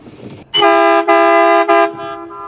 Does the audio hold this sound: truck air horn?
yes